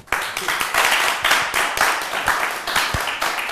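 An audience applauds a president at a youth event, a dense, steady wash of many hands clapping at close range with a few sharper individual claps standing out.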